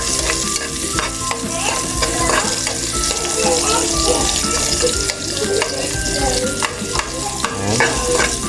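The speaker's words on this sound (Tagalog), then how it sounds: "Lagyan na natin yung sibuyas." Sliced onions sizzling in a hot pan for a Filipino chicken dish, a loud constant crackling hiss with occasional stirring scrapes and clatter close by.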